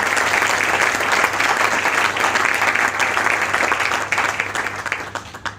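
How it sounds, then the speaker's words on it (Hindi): An audience at an MLM business event bursts into loud, sustained applause, many hands clapping together before it thins out and fades. "यहां पर एक बार तालियां भी चाहूंगा"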